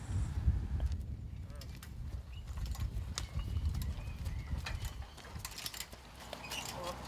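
Hooves of a Postier Breton cross Thoroughbred horse step softly during rein back training in an arena, a slow, irregular clip-clop close by, mixed with light tack rattle while a person talks over it.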